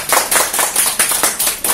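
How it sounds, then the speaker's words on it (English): A small group claps in a course session, a short burst of about eight distinct, evenly spaced claps, close and fairly loud, with no talk over it. "let's give her an applause."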